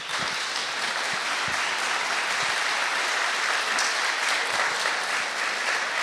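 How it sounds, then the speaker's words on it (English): Steady applause from an audience at a Milford candidates forum debate fills the whole stretch, dense and even without a break. "please hold your applause till the end of the debate"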